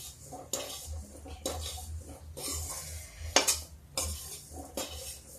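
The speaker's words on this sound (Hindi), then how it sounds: "ऐसे भूनते रहेंगे ये" Carrot and radish sabzi with masala being stir-fried in a pan: repeated close scraping strokes of a spatula against the metal in an uneven rhythm, over a faint soft sizzle, quiet overall.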